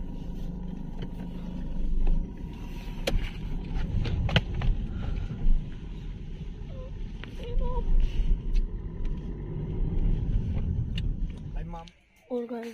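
Car engine rumbling steadily while driving, a continuous low drone with bumps and rattles throughout, ending in a brief dip near the close; people talk over it.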